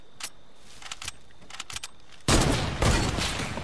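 Gunfire in a video game: a few faint, scattered distant shots, then a loud, sustained close burst of rapid firing that carries on to the end.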